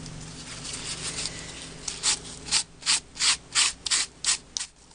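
A cloth rubbed back and forth across an embossed card, first as a steady scuffing, then as about eight distinct rhythmic strokes, close and alone.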